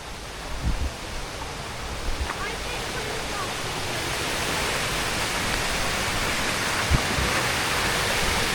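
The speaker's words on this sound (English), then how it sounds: "I can hear rapids" Steady broadband rush of river rapids heard outdoors on a walk, a constant roaring wash of water that swells slightly louder toward the end, with a couple of faint bumps near the microphone.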